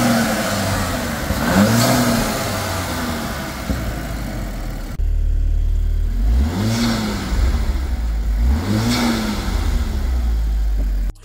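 A Volkswagen car engine with an upgraded intake revs up repeatedly, rising and falling in pitch three times over a steady low rumble, loud and close.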